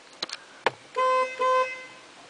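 A toy horn honks twice in quick succession, two sustained nasal tones with a brief gap between them, following a few short clicks and taps.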